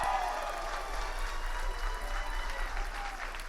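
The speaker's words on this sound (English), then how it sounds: "Can we give Mr. Chris Naugle a big round of applause?" Steady applause from a large audience greeting Chris Naugle on stage at a talk, dense continuous clapping at an even level throughout.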